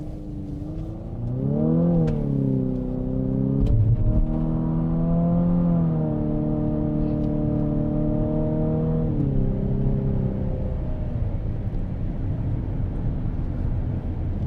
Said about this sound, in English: it has the whine and the rubber band sound that associates with a CVT